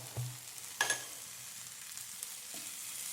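Curry leaves and black pepper frying in raw coconut oil, a faint steady sizzle broken by a couple of sharp crackling spits and light stirring clinks.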